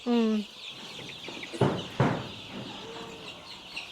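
Young laying hens cluck and squawk inside a poultry house, several short loud calls standing out over a murmuring flock, with brief speech nearby.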